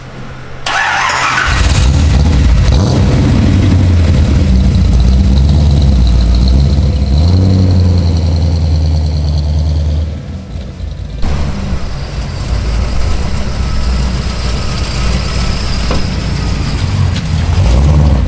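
A Holden XU-1 engine starts and then runs loud and close as the car heads off for a drive, holding a deep, steady drone with a short dip around the middle and no talk.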